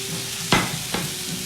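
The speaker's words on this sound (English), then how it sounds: "obviously that's sizzling" Meat sizzles steadily in a hot pan, with two brief bursts of louder hissing as it is moved or pressed.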